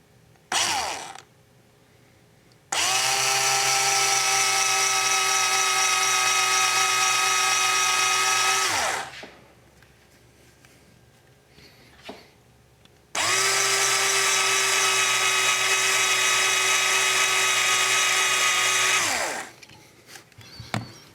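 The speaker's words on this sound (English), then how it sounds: "This is a nice slow drill, little 6-volt drill, so I can go real slow and be real careful." A small 6-volt cordless drill runs slowly while drilling on an AR15 gas block, giving two sustained whining bursts of several seconds each, close and loud, separated by a quiet pause with small clicks.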